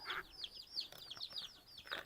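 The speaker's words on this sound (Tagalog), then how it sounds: "May manok din tayo doon sa kabila." Backyard chickens cluck and chatter softly in a short burst of overlapping calls, fairly faint and unhurried, with no talking over them.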